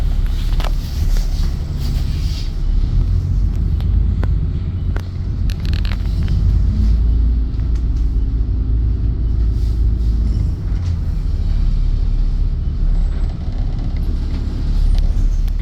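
A London double-decker bus on route 150 approaches as a continuous low engine rumble with road noise, loud and steady throughout, with no talking.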